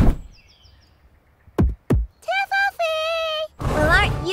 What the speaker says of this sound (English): all you babies have to do is knock on the door, shout trick or treat